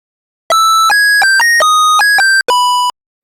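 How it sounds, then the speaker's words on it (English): Loud 8-bit synthesizer attack effect built from octave-stepping square-wave tones: a rapid run of bright, buzzy stepped pitches jumping up and down, then a final sustained tone before cutting off, heard alone. "That allowed you to do things like an octave step to create an attack sound."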